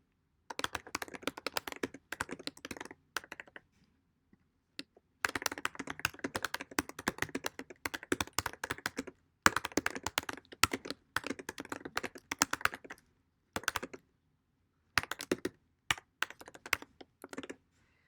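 Someone types a post on a computer keyboard with quick, close clicking keystrokes in irregular bursts, separated by a few short pauses.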